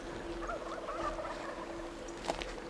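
Wild turkeys gobbling during a spring hunt in Idaho, a few faint, distant calls heard over a steady outdoor background hum, no speech.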